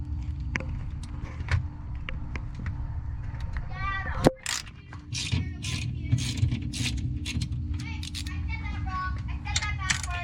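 Lug nuts on a Cusco strut brace fitted to a 2021 Toyota Supra are loosened with an 11mm ratchet, giving close, quick pawl clicks and metallic taps over a steady low hum.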